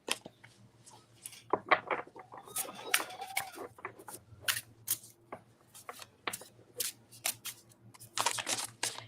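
Tarot cards shuffled by hand in bursts of crisp riffling and flicking slaps, close and fairly quiet, with short pauses between rounds and no talking.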